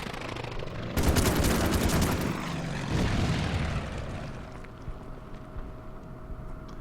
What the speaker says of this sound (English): The fighter just strafes.